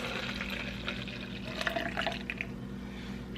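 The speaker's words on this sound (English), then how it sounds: "I'm going to pour it in" Day-old coffee is poured into a cup, a steady close liquid trickle with a few splashy drips, heard alone.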